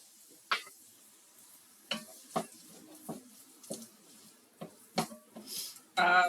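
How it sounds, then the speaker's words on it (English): Garlic and ginger stirred in a hot pan: scattered scraping and tapping strokes at an irregular pace, fairly faint and close, with a light sizzle underneath and a louder clatter at the end. "Just mix it around till I start to smell the garlic kind of work in."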